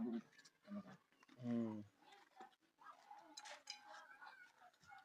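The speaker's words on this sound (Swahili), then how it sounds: "Bata wako wengi ukiwa wanakimbia" Ducks quack and call in a busy flock, with several loud harmonic cries rising over background voices and shuffling.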